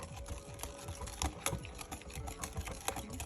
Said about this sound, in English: Whisk it up.